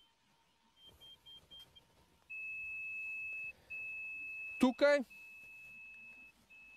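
An avalanche transceiver beeps during a search for a buried victim in winter mountains. Its beeps quicken into a near-continuous high tone, and a voice briefly speaks over it.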